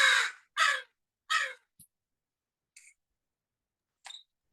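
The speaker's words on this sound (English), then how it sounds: "It sounds like you've got a lot of birds near" Crows caw near a person on a conference call: three loud, harsh caws in quick succession, then a few fainter, shorter calls spaced apart.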